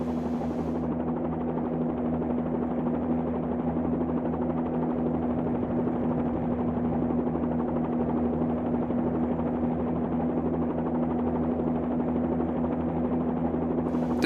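A Bell 47-2G helicopter in the FlyInside flight simulator drones steadily with a low, even engine hum and rotor buzz, unchanging and close throughout with no voices.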